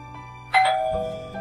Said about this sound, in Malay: loceng akan berbunyi